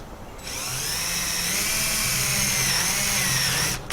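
A power drill bores a hole for a rivet during a patio fountain makeover, a steady high whine running nearly four seconds close up, starting and stopping abruptly.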